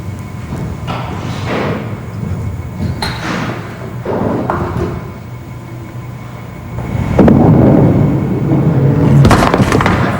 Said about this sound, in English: Ball broke across the face of the head pin, but doesn't seem to matter with Brenda.